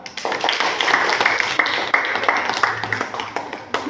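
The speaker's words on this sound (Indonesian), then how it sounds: "tepuk tangan untuk kelompok" Classroom audience clapping for a student group after its presentation, a brisk burst of many hands with sharp individual claps standing out, close and fairly loud for about four seconds before tapering.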